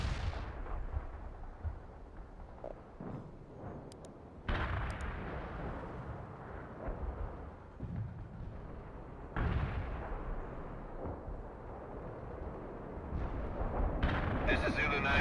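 Video game artillery fires in a military mission, several deep booming shell blasts with long rumbling decays, spaced a few seconds apart and moderately loud.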